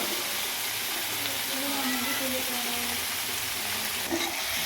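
Onions and tomatoes with a little turmeric sizzling in a pan for a spicy kara chutney, giving a dense continuous frying hiss, close and steady, with faint stirring under it.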